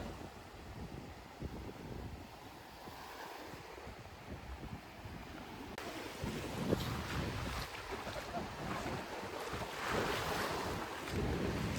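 Choppy sea waves wash against a sandy beach at Akkum, Kızkalesi, Mersin, Turkey, under steady wind buffeting the microphone, a continuous rushing roar that builds slightly toward the end.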